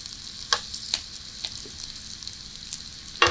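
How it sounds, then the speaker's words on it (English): Onions caramelizing in a pan alongside bacon sizzle with a steady broadband hiss, while a few sharp utensil clicks and scrapes from stirring punctuate the close, fairly quiet frying with no talking. "a little bit of this browning here on the onion"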